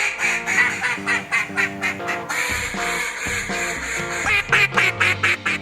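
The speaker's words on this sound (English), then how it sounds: "today I'm gonna be blowing the BSOD. The BSOD call. Black Stick of Death." A Black Stick of Death duck call blown in a rapid series of loud, nasal quacks, first in quick bursts, then a pause and a longer run of raspy quacks.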